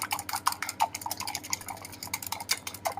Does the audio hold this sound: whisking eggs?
yes